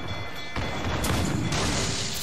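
A short, heavy booming crash of cannon fire from a naval battle in the video game Assassin's Creed 4 Black Flag, with rumbling noise swelling over about two seconds.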